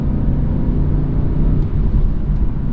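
A 2017 BMW M3 F80 cruises in comfort mode, a steady low engine and road rumble heard from inside the cabin at an even level with no speech.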